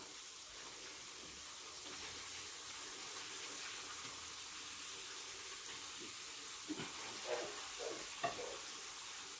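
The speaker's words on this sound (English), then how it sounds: "we got our onions sauteing up" Onions sautéing in oil in a pan for smothered cube steak, giving a steady, close sizzle and hiss throughout with a few soft stirring clicks and taps near the end.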